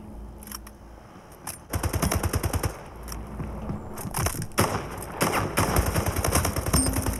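Rapid automatic gunfire in the SplitGate free-for-all shooter, dense bursts of shots rattling loud and close from about two seconds on, with brief pauses between volleys.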